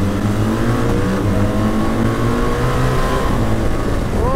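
BMW R1300 GS and R1250 GS motorcycles accelerate hard together from about 15–20 mph in second gear, their engine notes climbing steadily in pitch, loud and close over constant wind rush.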